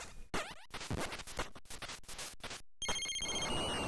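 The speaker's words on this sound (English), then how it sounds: "What is that cell phone ringing" An electronic cell phone ringtone on an NES ice hockey game, Blades of Steel, enters near the end as steady repeating beeps after a stretch of choppy scratchy game noise and abrupt cuts.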